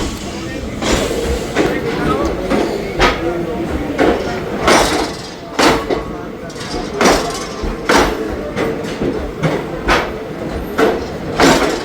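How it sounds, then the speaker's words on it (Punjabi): A Haridwar–Rishikesh passenger train moving at a station platform, loud and close, with repeated rhythmic clanks and clatter of wheels over rail joints against a rumbling background. "ਕੋਈ ਟ੍ਰੇਨ ਜਾ ਰਹੀ ਆ ਰਿਸ਼ੀਕੇਸ਼ ਨੂੰ"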